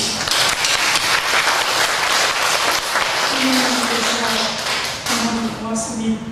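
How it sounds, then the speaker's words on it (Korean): A church congregation at a Sunday service gives a big, loud round of applause, with dense, sustained clapping; brief voices and a held musical tone rise partway through. "승리하라고 큰 박수 하겠습니다."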